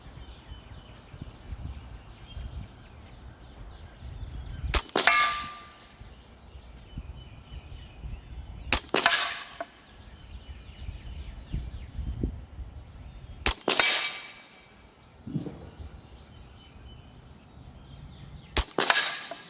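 A Hatsan Blitz .30 caliber PCP air rifle fires 50-grain JSB pellets at a target outdoors: four sharp, loud cracks spaced several seconds apart over a quiet background with faint birdsong.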